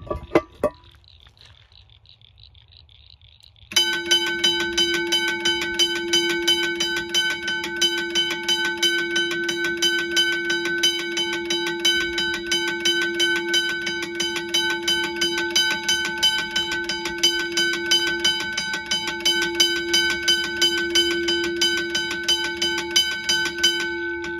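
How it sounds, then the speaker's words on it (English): A Mackenzie & Holland teardrop railway crossing bell with a slightly loose hammer rings close up in rapid, evenly spaced metallic strokes, starting after a brief quiet pause and continuing unbroken. "So that was the Mackenzie & Holland teardrop bell"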